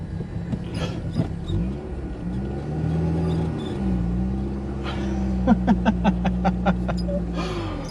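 A car running on 70% absinthe, its engine idling and revving unevenly with a low rumble and shifting pitch, then a quick series of sharp clicks and rattles toward the end, no voices.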